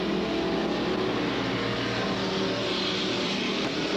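Street stock race cars roar around an oval track in 1993, engines droning loud and steady as the pack works through the turns, a continuous dense wall of motor noise with no talk.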